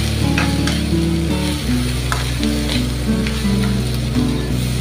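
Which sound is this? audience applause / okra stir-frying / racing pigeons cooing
okra stir-frying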